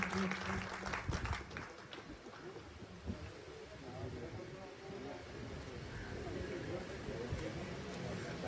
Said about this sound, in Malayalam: ഒരു കയ്യടി പ്ലീസ്, പ്ലീസ്